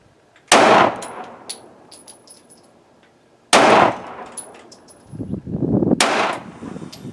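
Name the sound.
gunshots from a Taurus G3c pistol at the range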